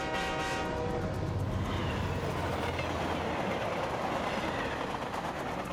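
An animated cartoon train rushes past, with a horn sounding at the start and then a loud, continuous rumble and clatter that fills the whole stretch.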